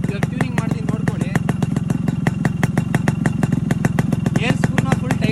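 A Yamaha RX135 two-stroke motorcycle idles at about 1500 RPM, a loud, close, rapid and even popping putter that runs steadily from start to finish.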